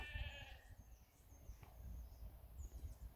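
A flock of sheep with one short bleat at the start, followed by fainter calls, low rumbling and wind-like noise in a quiet outdoor setting.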